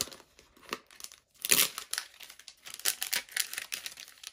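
A small paper envelope is opened with close, crisp crinkling and a few sharp tearing rustles, coming in short bursts and then a busier stretch of handling, with no talking.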